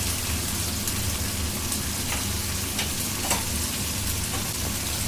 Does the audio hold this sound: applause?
no